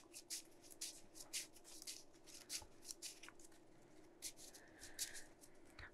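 Old 2003-era Pokemon trading cards shuffled by hand, a steady run of soft papery flicks and riffling bursts close by, with no talk over them.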